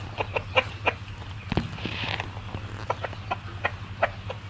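Several chickens cluck in short, repeated bursts close by, with a steady low hum running underneath and no voices.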